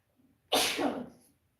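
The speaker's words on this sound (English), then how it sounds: "Whew, I have to sneeze." A single loud, close sneeze bursts out after a faint inhale, trailing off quickly into silence.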